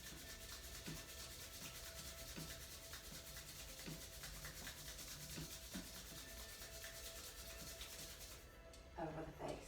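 Hands rubbing together during home yoga practice, soft repeated swishing friction strokes, close and quiet, then a few louder brushes near the end.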